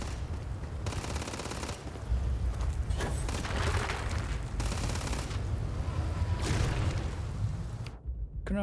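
Video game gunfire in a robot-hunting shooter, rapid automatic bursts and heavy booms rattling continuously for several seconds before cutting off abruptly at the end.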